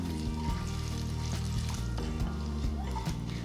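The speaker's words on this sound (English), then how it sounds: "Once the mustard seed starts spluttering" Red chilies, mustard seeds, urad dal and cumin seeds fry in hot oil, crackling and popping continuously with scattered sharp spatters over a steady sizzle.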